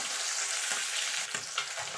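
Small mourala fish sizzle in hot oil, a dense, steady crackle and spatter close up with no voices.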